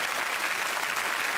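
Audience applauding the performers, a sound-effects artist and a mime, on a French comedy show: dense, steady clapping from a large crowd, even and sustained with no gaps.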